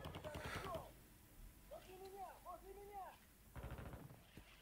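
Bursts of gunfire from players in a video game, with a loud rattling volley, a quieter stretch of ringing mechanical whines, then another sharp burst, all fairly faint overall.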